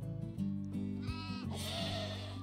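Sheep bleat in RimWorld, several wavering, nasal calls overlapping in quick succession, loud and close, with no talking.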